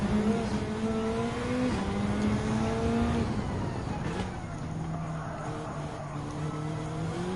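The Subaru WRX Gr.B rally car's engine drones steadily in Gran Turismo 7, its pitch stepping up and down through gear changes as the race runs on, with no talk over it.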